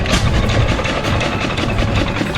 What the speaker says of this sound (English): Whose engine is that?